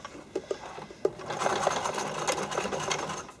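A sewing machine stitching through thick layers of fabric for figure skating blade soakers, starting with a few separate clicks and thumps, then running into a steady close whirring stitch.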